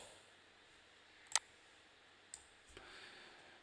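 Computer mouse clicks while working in Word: one sharp click, then two softer ones, faint against a quiet room hum.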